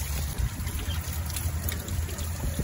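Water runs through the cooling system of a Jaguar XJS V-12 during a flush, a steady close gush and trickle with no pauses.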